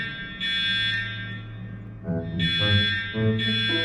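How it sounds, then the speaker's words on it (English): A school fire alarm in an animated cartoon rings in loud, shrill bursts with brief pauses between them, heard alone without talk. "This is the third time you've pulled the fire alarm without cause."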